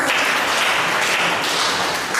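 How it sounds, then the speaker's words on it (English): Sustained clapping from a large audience at a Ghanaian community gathering in Tripoli, Libya, thick and even applause filling the moment without any speech on top. "Hungary, a round of applause."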